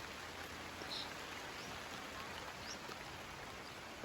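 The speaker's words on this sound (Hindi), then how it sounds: "बारिश बहुत तेज़ हो गई।" Heavy rain falling steadily on a forested mountain roadside in Uttarakhand's Chhakhata range, a dense even hiss without pauses, soft and moderately distant.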